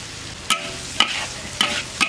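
Vegetables and scallions stir-fried in a hot wok over a strong flame for a chopped-chili cured fish dish, with a steady sizzle broken by four sharp scraping spatula strokes at even intervals, close and alone.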